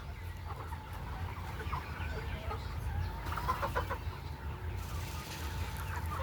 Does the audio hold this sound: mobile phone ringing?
no